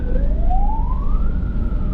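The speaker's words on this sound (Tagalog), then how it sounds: "Nagbigyan ko nga yung ambulansya" An ambulance siren wails in traffic, its rising tone sweeping steadily upward over a constant low rumble of road and engine noise, loud and close throughout.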